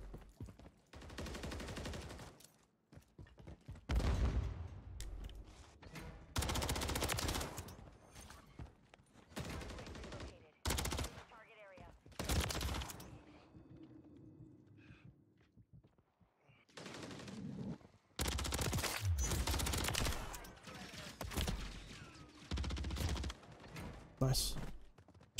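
Bursts of automatic gunfire in Call of Duty Modern Warfare 3 ranked multiplayer, loud volleys broken by short gaps and quieter stretches, with people talking in between.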